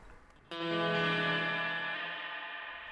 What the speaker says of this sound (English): you can hear the tank mod, which is another arcade style button here. So it introduces a bit of pitch wavering.